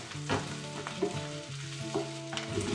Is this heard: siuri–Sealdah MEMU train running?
no